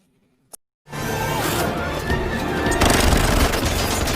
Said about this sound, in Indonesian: Maksudnya tembak-menembak.